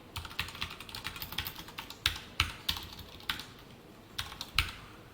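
Close, crisp keystrokes on a computer keyboard while Java code is written, an uneven run of light taps with a few louder key presses and no speech.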